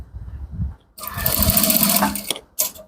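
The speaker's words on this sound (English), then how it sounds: "So make a stitch this way." Sewing machine stitching palazzo combat trousers, a loud steady mechanical whir of about a second and a half, followed by a short second burst after a pause.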